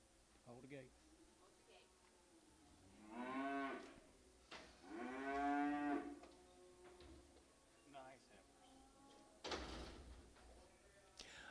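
Cattle at a calf and stocker auction bellowing in two long, loud moos a few seconds apart, with people talking quietly around them and gate clanks.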